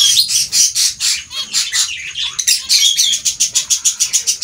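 Pet finches in a new cage at night chirp in quick, bright, repeated tweets, a close and steady run of calls with no talking.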